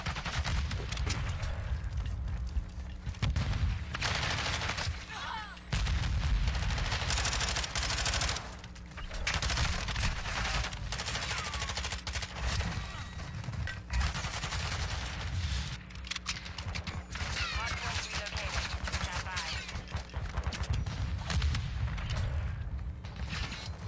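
Dense gunfire in a ranked battle-royale shooter game, with rapid automatic bursts and booming shots running continuously and loudly throughout.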